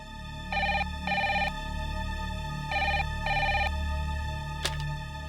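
A telephone rings in two pairs of bright, evenly spaced electronic trills with short gaps between them, loud and clear over a quiet indoor background in a Hindi TV drama scene.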